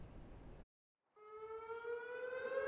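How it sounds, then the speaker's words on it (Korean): After a brief burst of noise and a moment of silence, a memorial siren starts up and holds a steady, rising wail, loud and sustained, outdoors under a clear June sky in Daegu, South Korea. "화창한 6월 하늘 아래 추모 사이렌 소리가 울려 퍼집니다."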